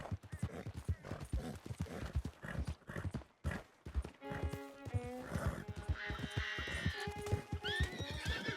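Horse whinnies and hoof clip-clops in a video game, with busy game sounds and short bursts of speech-like noise early on, then drawn-out tonal neighs rising near the end.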